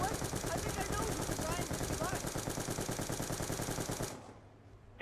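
Rapid automatic weapon fire in a Call of Duty Zombies match, a dense steady stream of shots heard up close that stops abruptly near the end, with faint chatter beneath.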